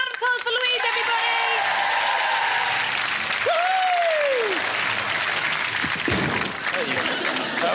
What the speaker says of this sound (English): Round of applause for Louise, everybody